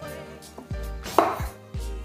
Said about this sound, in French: On va les couper en 4.